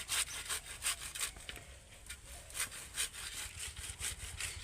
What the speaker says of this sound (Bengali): এইভাবে গ্রেট করলে কিন্তু পিউরিটা বেরিয়ে আসবে।